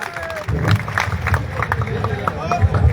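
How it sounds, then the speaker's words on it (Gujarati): At a farmers' fasting protest in Jetpar, Morbi, a crowd claps and cheers to welcome a farmer on a hunger strike. The applause is busy and uneven, with voices calling out over it. "આપણે જોરદાર તાળીઓથી વધાવશું નિલેશભાઈ"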